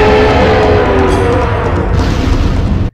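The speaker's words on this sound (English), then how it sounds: "the Bio-Lizard scream that you hear during the cutscenes is actually a heavily pitched version of Sonic and Shadow screaming in Japanese" The Bio-Lizard's monstrous roar from the video game Sonic Adventure 2, built from heavily pitched-down screams of Sonic and Shadow, a deep rumbling, loud and close for about three seconds before stopping abruptly.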